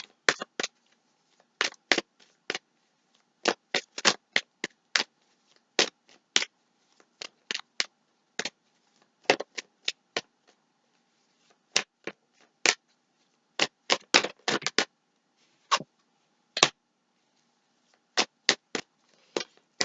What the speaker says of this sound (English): Okay, we're going to shuffle.